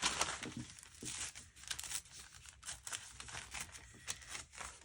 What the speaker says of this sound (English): And I'm going to maybe tear it through here.